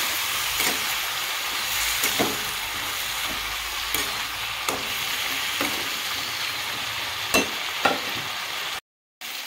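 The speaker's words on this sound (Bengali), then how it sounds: "সবজির সাথে মশলাটাকে কষিয়ে নেব।" Vegetables and spices sizzle steadily in a hot pan with a little water for a Bengali Tangra fish charchhari, a continuous close frying hiss broken by occasional stirring scrapes and soft pops, ending with a brief cut.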